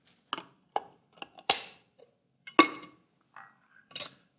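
Juniper berries ground by hand, a series of short dry cracks and crunches in irregular bursts, close and clear against a quiet background.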